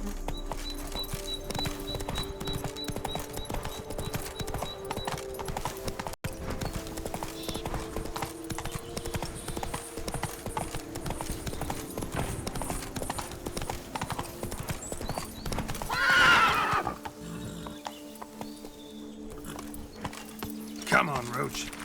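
Roach, the horse in The Witcher 3: Blood and Wine, galloping with continuous, rapid hoofbeats under steady game ambience and music, with a brief neigh or snort surging near the end and a voice speaking briefly.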